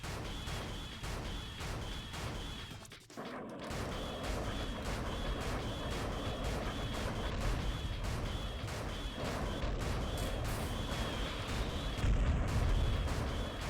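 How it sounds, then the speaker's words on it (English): Missiles are shot down in a space video game, with a dense, continuous barrage of rumbling blasts and rhythmic pulsing bursts, loud and unbroken apart from a brief dip early on. "I can shoot the missiles out of the sky, no problem"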